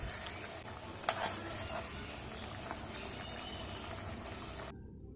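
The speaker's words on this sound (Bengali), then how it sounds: "মাছগুলোকে হালকাভাবে নেড়ে চেড়ে দেব" Tangra fish frying in oil with chopped green chillies, gently stirred, giving a steady soft sizzle with one sharper utensil scrape near the start and faint scraping after.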